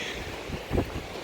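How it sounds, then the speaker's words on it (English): Blustery wind buffets the microphone on a sandy beach, a steady low rumble with a stronger gust near the middle, no voices. "It's very, very windy right now."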